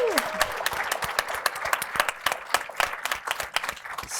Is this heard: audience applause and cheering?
yes